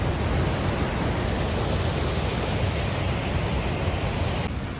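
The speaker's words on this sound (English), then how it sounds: "Wow, look at those falls." Falls of Falloch in Scotland pour in a steady, dense roar of falling water, close and loud, running unbroken throughout with no voices.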